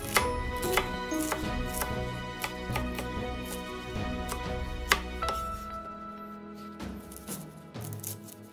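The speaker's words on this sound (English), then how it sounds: "And take a large onion and dice it too." A large onion being diced with a knife on a cutting board while preparing a minced lamb curry, giving a steady run of close, crisp chopping knocks with light clinks, and no talk.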